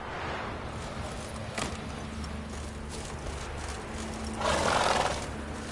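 A horse neighs and whinnies in The Witcher video game, with a burst of hoof clatter near the middle and a louder whinny toward the end over steady ambient game sound.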